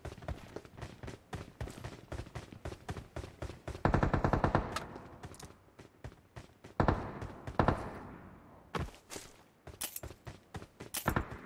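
Gunfire in the mobile game PUBG Mobile: repeated rapid bursts of automatic rifle fire, some dense and sustained, others short volleys with brief gaps, fairly quiet overall, with faint footsteps between.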